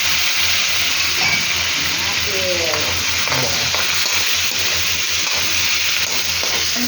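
Onion and tomatoes sauté in a hot pan for ginisang monggo with cabbage, giving a loud, steady sizzle and hiss with occasional stirring scrapes throughout.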